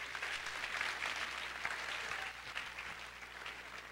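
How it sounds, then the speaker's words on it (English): An audience at a school drama and curtain-call show applauds student teachers, giving soft, even clapping from a moderately distant crowd that holds steady for four seconds with no voices over it. "Round of applause for them,"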